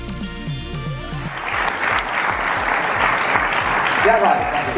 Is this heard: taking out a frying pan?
no